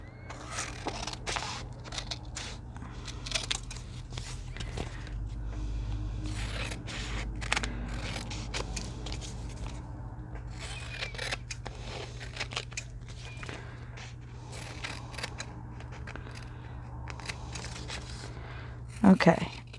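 Scissors snip steadily through fabric for a saddlebag pocket, a quiet run of small crisp cuts over a low constant hum, with a brief louder burst near the end.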